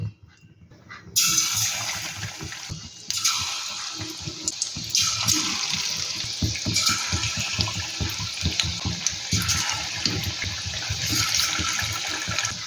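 Chicken pieces go into hot oil in a kadai, setting off a sudden loud rushing sizzle that swells in waves and holds as a dense, close, roaring hiss with crackling underneath, no voices.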